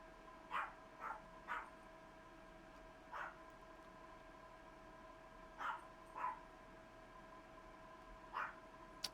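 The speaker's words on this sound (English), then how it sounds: "Can you hear the dog barking?" A dog barks somewhere in the distance, several short, faint yips scattered unevenly across a quiet indoor background with a steady hum.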